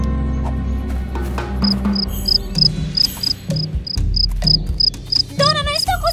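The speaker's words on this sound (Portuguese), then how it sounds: "não estou conseguindo pegar esses grilos fujões!" Runaway crickets in a cartoon chirping in regular, high-pitched pulses, loud and close, over busy animated background sounds.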